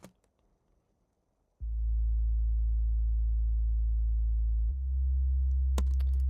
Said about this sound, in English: make the sub oscillator, sine wave, and then you have a clean bass